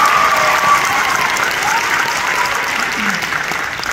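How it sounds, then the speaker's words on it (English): Audience applause for a pianist at a Henry County Honors Chorus performance, a steady, dense crowd clapping sustained throughout at close, loud level. "Give Miss Hawkins your round of applause"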